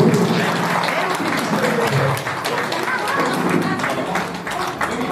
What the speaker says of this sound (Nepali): यहाँहरूले कृपया तालीले सम्मान गरिदिनुको लागि सबैलाई अनुरोध गर्दछु